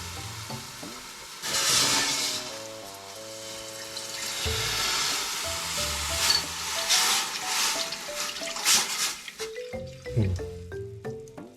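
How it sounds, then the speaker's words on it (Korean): Broth is poured into a hot pan for sukiyaki, a sustained hissing, splashing wash lasting several seconds under soft background music before easing off. "육수를 바로 넣어줍니다 이거 이, 음. 천천히 부어줄게요"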